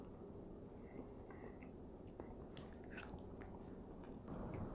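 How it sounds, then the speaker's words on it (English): Close mouth sounds of someone biting into and chewing a crisp, juicy fruit with an apple-like crunch, soft repeated crunches and wet mastication in a quiet room, no talking. "Has a crispy crunch to it, like an apple."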